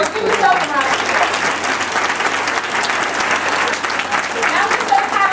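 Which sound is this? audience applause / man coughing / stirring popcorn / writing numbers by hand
audience applause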